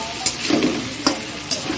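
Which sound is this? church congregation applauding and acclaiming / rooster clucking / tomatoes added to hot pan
tomatoes added to hot pan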